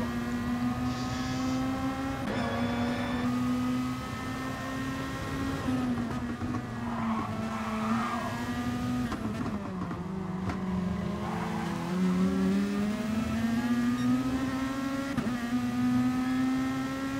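A race car in a racing event runs over the kerbs and loses grip at the front, its engine droning loudly and steadily throughout, with pitch rising and falling as it revs and slides.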